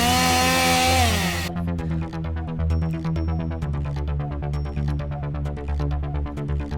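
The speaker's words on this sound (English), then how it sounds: "I love the chainsaw." A video-game chainsaw buzzes continuously for several seconds, a harsh, rattling motor whine with steady rapid pulses, loud and close with no talk over it.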